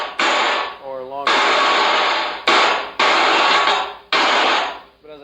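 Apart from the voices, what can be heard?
claptrap drum trigger device making fake clapping sound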